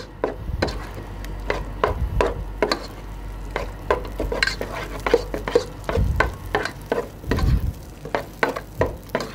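Mashed potatoes are worked vigorously in a pan over heat, with repeated scraping, slapping and stirring strokes in an irregular rhythm over a soft background sizzle, close and moderately loud.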